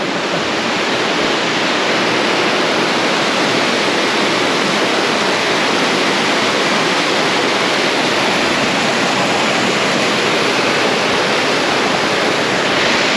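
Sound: waterfall in Panamint City

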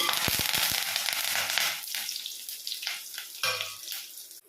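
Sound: tempering spices frying in hot oil

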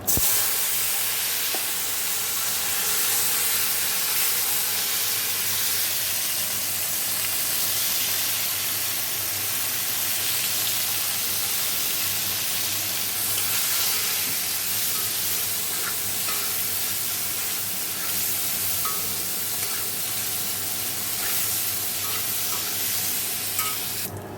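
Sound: frying cauliflower in a pan

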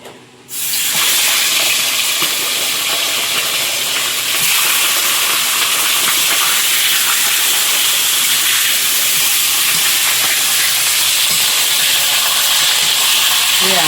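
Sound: frying hilsa fish head on clay stove

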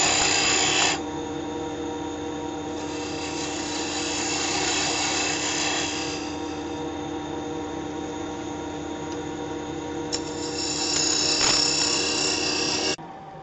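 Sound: woodturning tool cutting a wooden box on a lathe

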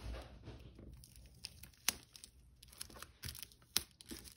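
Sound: adhesive tape being pulled and handled while packing an order

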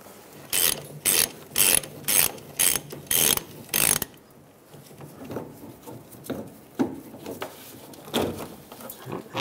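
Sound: ratchet spinning off a nut on a Chevrolet Silverado

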